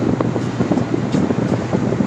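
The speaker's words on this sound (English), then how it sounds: "Right now it's still super windy." Strong gusting wind batters the microphone during a severe thunderstorm in southwest Michigan, a steady loud roar with surging gusts throughout.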